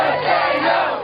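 Protesters against government-run health care shouting together at a Texas town hall, a dense, loud roar of many voices without a break through a short stretch.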